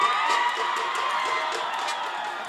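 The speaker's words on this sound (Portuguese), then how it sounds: "Cadê o grito da torcida?" Guarani football supporters cheer and shout together, a dense, continuous crowd roar with scattered higher whoops, steady and fairly close.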